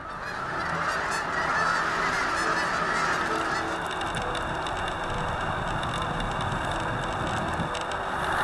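Wild geese honking continuously as a dense flock, a loud, overlapping chorus of calls filling the whole stretch with no pauses, close and steady.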